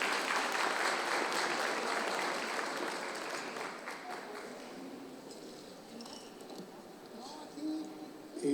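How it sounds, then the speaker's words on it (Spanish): An audience applauds a guest researcher being introduced at an academic talk on monocytes, macrophages and obesity, dense clapping that is loud at first and then gradually thins and fades. "Le pido un aplauso a quien cedo la palabra"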